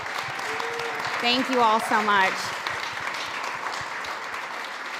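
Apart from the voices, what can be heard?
audience applause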